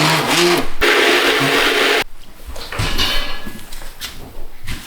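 Blender whirring loudly for about two seconds while blending a cream made from garden tomatoes in a home kitchen, then stopping abruptly, followed by quieter clattering and handling noises.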